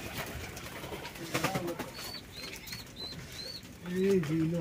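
Pigeons at a household coop or market, with several short cooing calls and a throaty coo near the end, mixed with rustling, scuffling and brief wing flaps nearby.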